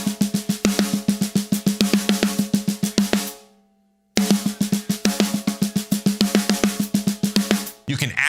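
A drum set plays a paradiddle-diddle pattern in sextuplets, a fast, even stream of close, punchy strokes with ringing drum tone, stopping abruptly for about a second of near silence before the same pattern resumes.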